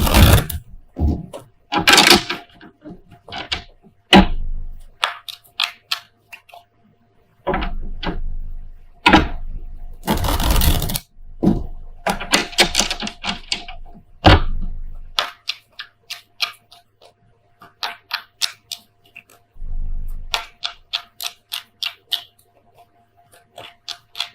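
Rapid crisp riffling and snapping of tarot cards being shuffled, in quick bursts with short pauses, close and clear, no talking.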